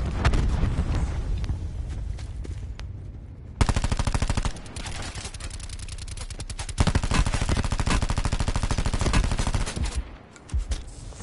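Rapid bursts of video game gunfire in a PS4 game, sustained automatic fire with short gaps, loud and close, with a louder stretch in the middle and near the end.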